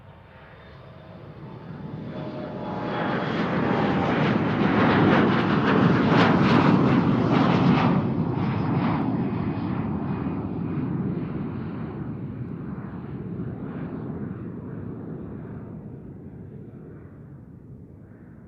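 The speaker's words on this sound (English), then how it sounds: "787 Dreamliner Air Canada coming our way." An Air Canada Boeing 787 Dreamliner jet passes at Amsterdam Schiphol, a broad engine roar swelling over a few seconds, peaking, then slowly fading away with no voices.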